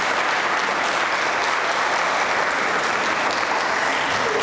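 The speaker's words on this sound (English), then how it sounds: "So please give her a round of applause." Continuous, even applause from an audience at an annual meeting, loud and dense throughout the short stretch with no voices over it.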